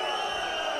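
Partisan arena crowd at a freestyle wrestling match in Bucharest, a dense, loud roar of shouting and cheering that holds steady over a brief moment.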